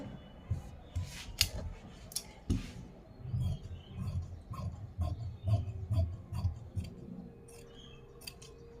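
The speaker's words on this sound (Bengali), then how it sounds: "এটার জন্য আমি দুই পিস কাপড় কেটে নেই" Scissors snip through cloth being cut for a baby frock, a series of close, crisp irregular cuts with soft handling rustles between them.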